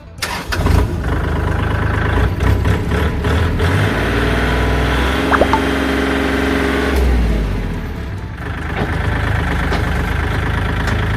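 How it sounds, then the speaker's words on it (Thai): A used Kubota L3608SP or L3218 tractor diesel engine cranks and fires, then settles into a steady, loud clattering idle with slight rises in revs, close up and without talk. "เราลองมาสตาร์ทเครื่องยนต์ดูนะครับ"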